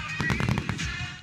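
Fourth of July fireworks go off in a rapid cluster of muffled booms and crackling pops, several bursts within a second over a rumbling background.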